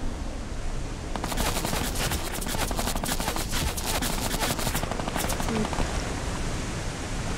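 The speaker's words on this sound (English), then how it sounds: "First weapon you guys will be using. Minigun." A Fortnite minigun fires one long, steady, high-rate stream of rapid shots lasting several seconds, with players talking over the game audio.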